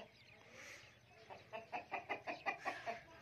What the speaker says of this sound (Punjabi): ਇਹ ਇੱਕ ਕੁੱਕੜੇ